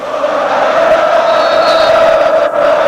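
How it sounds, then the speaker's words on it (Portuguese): Corinthians supporters at Morumbi stadium during the 1999 Paulista championship final against Palmeiras, a dense, steady roar of cheering and chanting that fills the whole stretch, loud and continuous with a brief dip near the end. "E a torcida do Corinthians não para."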